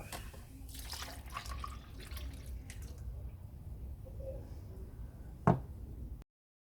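Milk pours into eggless vanilla cupcake batter with a soft, steady liquid trickle close by, ending in a single sharp clink partway through.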